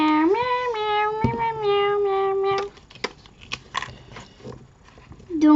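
A cat meowing in a long, drawn-out wavering cry up close, followed by softer scuffling and small sounds, with a voice talking nearby.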